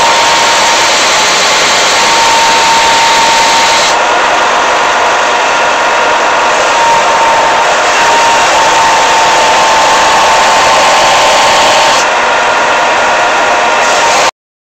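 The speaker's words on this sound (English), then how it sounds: "So we'll move up to the belt sander and we'll start sanding." Belt sander running on scrap wood for a candle holder, a loud continuous whir and abrasive rush that shifts in tone as the workpiece is pressed on and eased off.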